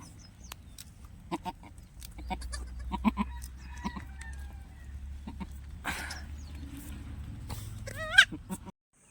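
Goats grazing outdoors give scattered bleats over a low steady rumble, with a louder, wavering bleat close to the microphone near the end.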